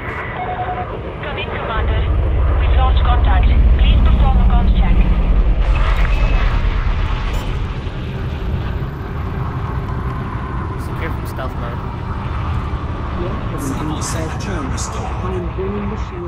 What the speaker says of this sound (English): I am activating the landing light and lowering the landing gear.